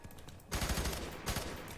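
Gunfire from the F.E.A.R. 3 co-op shooter: dense, loud bursts of shots that start abruptly after a brief quieter moment, then pause and resume in a second burst.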